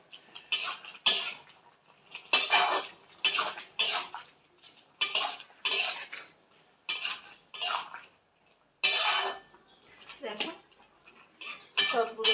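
Shrimp being mixed in a pot with chopped coriander leaves and onion paste for a potato, radish and eggplant curry: repeated clattering, scraping bursts of a spoon against the pot come in an uneven rhythm, close and fairly loud, with short gaps between them.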